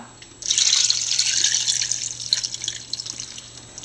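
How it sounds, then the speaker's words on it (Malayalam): Water runs steadily from a tap or jug into a pot of jackfruit seeds for cooking, a bright splashing pour that starts abruptly and continues, close by. "ആവശ്യത്തിന് വെള്ളം ഒഴിച്ചു കൊടുക്കാം."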